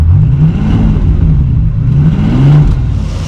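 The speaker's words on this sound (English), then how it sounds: "Engine sounds pretty good, pretty healthy" A Bentley Continental GTC's W12 engine idling close up, a loud, smooth, steady low drone with a slight rise and fall in pitch.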